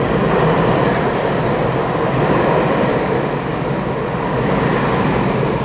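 An EMU800-series Smile special train passes through Songshan station in Taipei, a loud steady rumble of wheels and rail noise that holds for the whole stretch with no break and no voices.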